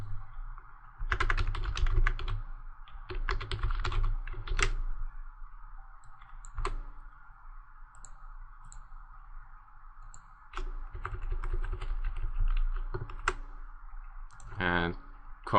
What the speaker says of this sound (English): Type an example name underneath.